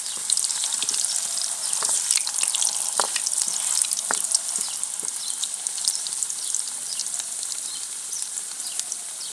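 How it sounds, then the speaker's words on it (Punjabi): Potatoes for dum aloo fry in hot oil with a dense, close crackling sizzle and scattered sharp pops throughout, with no voices. "ਹੁਣ ਤੇਲ ਗਰਮ ਹੋ ਗਿਆ ਤੇ ਆਪਾਂ ਆਲੂ ਪਾਵਾਂਗੇ ਇੱਕ ਇੱਕ ਕਰਕੇ ਪਾਵਾਂਗੇ ਕਿਤੇ ਛਿੱਟਾ ਨਾ ਵੱਜੇ"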